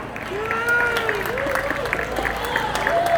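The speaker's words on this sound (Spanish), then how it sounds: "Y ahora vamos a recibir con un fuerte aplauso a Charo Pizano" A seated audience at a daytime event applauds to welcome the next speaker to the stage, giving steady crowd clapping with faint voices and a few higher vocal sounds mixed in.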